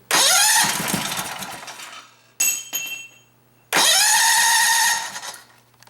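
A Goofy Cart II go-kart engine cranks and fires into a loud, raw revving roar, drops away briefly, sputters, then surges again into sustained high revs before easing off, close up with no talk.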